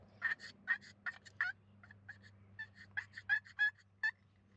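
A hand-scratched turkey call, likely a box or slate type, yelping out a rapid run of clucks and purrs in uneven bursts, close and clear over a low steady hum.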